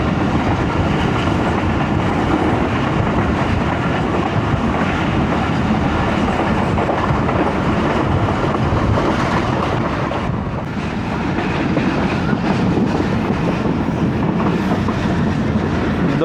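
Carriages of the 14DN Awam Express rattle along the rails between Padidan and Shahdadpur, a loud continuous roar with rhythmic clickety-clack of wheels over joints, heard from inside the moving train with wind noise.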